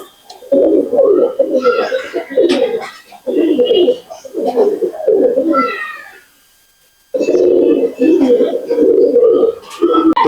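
Pigeons kept for sale coo loudly and close, in repeated throaty bursts that pause briefly before starting again.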